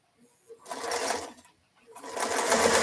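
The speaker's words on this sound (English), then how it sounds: "Sew these 3 pieces on here." A home sewing machine stitching three fabric pieces together runs in two close, steady whirring bursts separated by a short pause, loud and alone with no talking.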